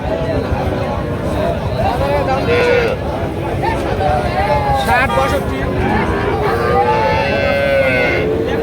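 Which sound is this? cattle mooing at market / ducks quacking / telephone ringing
cattle mooing at market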